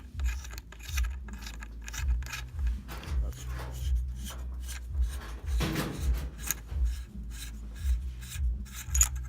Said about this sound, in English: Just go ahead and unscrew it.